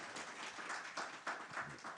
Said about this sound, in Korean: 이게 박수 쳐 드려야 됩니다.